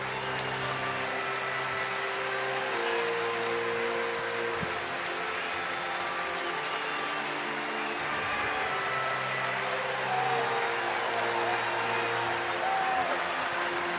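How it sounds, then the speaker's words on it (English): A stadium crowd at a West Virginia vs North Carolina college baseball game applauds a departing pitcher with steady, diffuse clapping and crowd noise that continues for over ten seconds. "He should get a loud round of applause."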